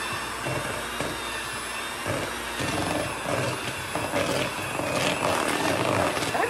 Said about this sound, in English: And we are simply going to whisk it. I'll whisk for a minute, it's gonna be loud